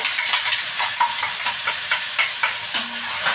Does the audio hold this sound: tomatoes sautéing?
yes